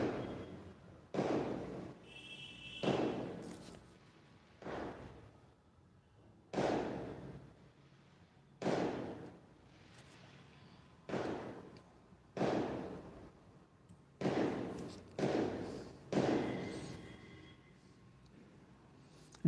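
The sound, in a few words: firecrackers bursting outside during online class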